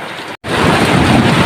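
Heavy rain roars in a thick, loud hiss after a brief cut, with a deep low rumble of thunder underneath, falling on a small shop.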